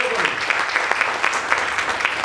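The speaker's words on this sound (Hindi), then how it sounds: "एक बार जोरदार ताली मारो लेडीज।" A hall audience of women claps loudly and briskly in dense, sustained applause with rhythmic surges.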